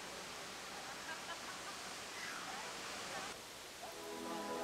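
Rinka Falls in Logarska Dolina, Slovenia, pours as a steady, faint, hissing rush of falling water, broadband and unbroken, with a narrator's voice briefly over the end.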